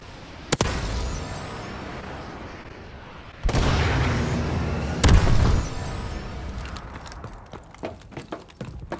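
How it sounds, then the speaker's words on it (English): Missile strike explosions in Call of Duty Advanced Warfare, two heavy booming blasts a few seconds apart with rumbling tails, followed by scattered gunshots and clattering as battle noise continues. "Friendly missile strikes incoming."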